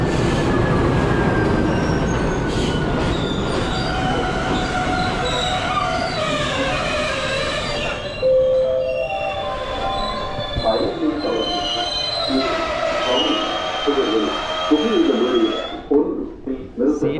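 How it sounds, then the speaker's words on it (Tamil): A passenger train from Anuradhapura to Jaffna, Sri Lanka, rolls into a station with loud, drawn-out wheel squeals and rumbling carriages, voices murmuring faintly in the background before it slows. "அனுராதபுரத்தில் இருந்து யாழ்ப்பாணம் போகிற ட்ரெயின்"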